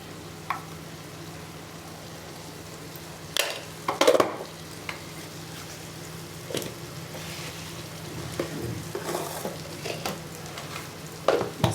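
Masala powder being stirred into vegetables frying in a pan, with a steady low sizzle and scattered scraping spoon strokes that cluster in a few louder bursts.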